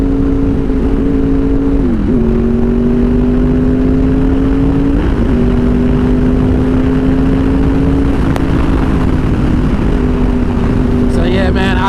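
Honda VFR800 motorcycle engine pulling hard under acceleration, a steady loud drone that climbs in pitch through each gear, dropping briefly at shifts around two, five and eight seconds, with a rising whine near the end.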